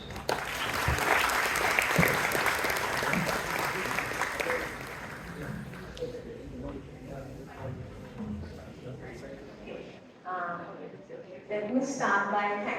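An audience at a SYMMETRY'25 lecture applauds to welcome a professor, a dense burst of clapping that swells loud at first, then thins and fades as voices and shuffling take over.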